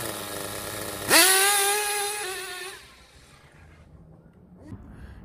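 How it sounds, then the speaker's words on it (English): A Tamiya TGX Mk1 nitro RC car engine revs up sharply with a buzzing, rising whine, holds a loud steady drone for about two seconds, then drops away, followed by a faint brief blip. "and the car is running really well."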